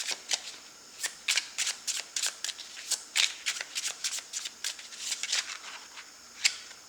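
Tarot cards being shuffled and drawn one after another in a quiet room, a steady run of crisp riffling snaps and slides, close and fairly soft, with no talking.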